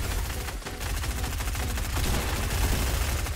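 Dense, rapid gunfire in Fortnite Battle Royale, overlapping bursts from several players firing at once, loud and continuous for the whole stretch with no voices over it.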